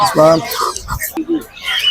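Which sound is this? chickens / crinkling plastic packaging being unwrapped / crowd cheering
chickens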